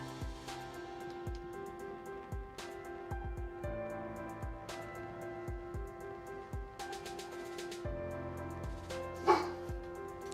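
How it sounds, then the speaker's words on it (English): A single sharp dog bark at the TV rises near the end over steady background music and low sounds. "Why are you barking?"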